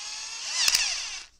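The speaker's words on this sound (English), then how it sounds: "What I'm gonna do is I'll open this up, insert the drill" A small handheld power drill whines briefly at high pitch, close by, spinning up and then cutting off within about a second, with no voices.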